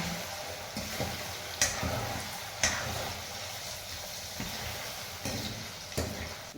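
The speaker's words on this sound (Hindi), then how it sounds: "देख सकते हो फ्राई कर रही हूँ।" Food frying in a pan with a steady close sizzle, broken by several sharp knocks and scrapes of a utensil being stirred against the pan.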